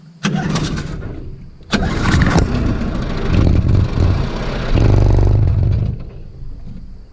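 A 1953 Johnson QD-14 outboard motor is cranked and fires up, with a couple of sharp pulls before it catches and settles into a loud, close, rough running roar.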